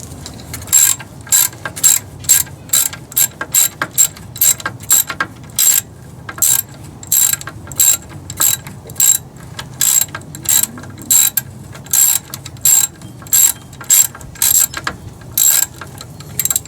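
Rapid ratchet wrench clicking while a bracket is removed, loud close bursts of ratcheting strokes repeating steadily in a quick rhythm for the whole stretch, with no talk.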